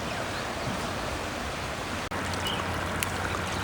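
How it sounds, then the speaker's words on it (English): A stream flowing out of the Shishamara river, a steady broadband rush of running water heard close and continuous, with no voices. "This is a stream coming out of river Shishamara"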